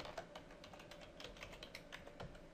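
A password is typed on a computer keyboard in a quiet room: a run of soft, close key clicks in an uneven rhythm, with no one speaking.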